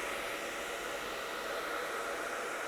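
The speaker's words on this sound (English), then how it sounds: "just pop the dryer on it for a second and get it where I want it" A hair dryer blows steadily on hair while styling a soft mullet, a loud, constant airy roar filling the whole short stretch with no talking.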